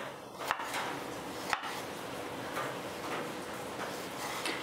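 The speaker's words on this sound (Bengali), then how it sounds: "এরকম ছোটো ছোটো টুকরো করে আপনারা কুচি করে নেবেন" Tomatoes roughly chopped into small pieces on a cutting board for a Bengali fish curry, a few sharp knife taps spaced out over low kitchen room noise, close and fairly faint.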